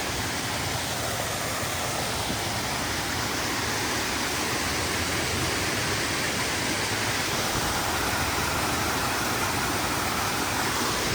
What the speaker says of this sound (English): Rae's stepping aside so I can get a good video of the little mini waterfall